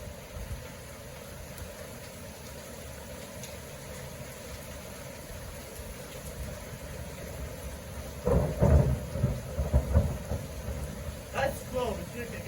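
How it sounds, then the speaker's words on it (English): A thunderstorm with steady rain hiss throughout, then rumbling thunder that builds and crackles nearby in the second half, with a voice speaking at moments. "That's Thunderstorm. This is wind shower."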